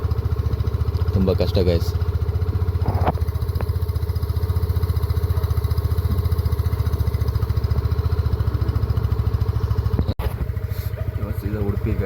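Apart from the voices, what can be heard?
motorcycle engine running rough in cold weather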